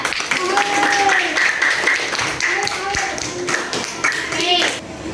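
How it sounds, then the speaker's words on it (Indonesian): A burst of lively clapping from a classroom group of schoolchildren fills the room while children's voices call out over it. "Tepuk tangan untuk kelompok 3."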